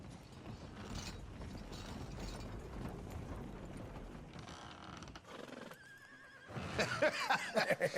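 A horse neighs in the western video game Red Dead Redemption 2, a bright whinny rising near the end over a bed of clanking mechanical and ambient game sounds.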